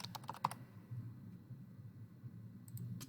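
Quick bursts of computer keyboard typing, a handful of close, crisp key clicks early on, then a quiet room hush with a few faint taps at the end.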